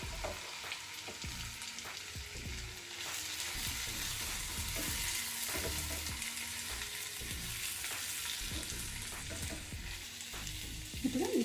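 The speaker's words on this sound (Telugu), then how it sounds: "మనం ముందుగా ఫ్రై చేసి పెట్టుకున్న ఈ వెజిటేబుల్స్ అన్నీ కూడా ఇందులో వేసేసుకోవాలి" Pre-fried vegetables sizzle and fry steadily in a kadai masala gravy for restaurant-style kadai veg, with stirring scrapes and clinks throughout at a moderate, close level.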